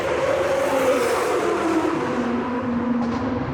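A McLaren Senna hypercar runs on a race track during a hypercar trackday, its engine a loud, steady howl whose pitch slowly drops as it goes by.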